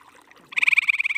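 A frog croaking in a rapid, steady pulsing trill that starts suddenly and rings loud and close, with no talk over it.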